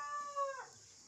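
A rooster crows once, a short clear call near a grandmother's village home, and then trails off into quiet.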